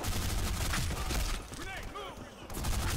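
Dense, continuous gunfire from the free FPS game Black Squad, a loud sustained fusillade of rapid shots that dips briefly before resuming, with someone talking over it.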